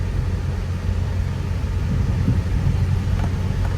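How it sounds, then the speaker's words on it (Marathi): Road traffic of cars passing in heavy congestion forms a dense, steady low rumble with a constant wash of noise and no distinct individual vehicles or voices. "त्याच्यामुळे भरपूर ट्रॅफिक दिसते"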